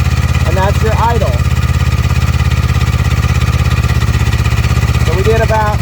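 Yamaha Phazer snowmobile engine idles steadily after its idle screw is adjusted, a loud, even low rumble that runs throughout, with someone talking faintly over it twice.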